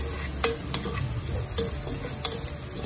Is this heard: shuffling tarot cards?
no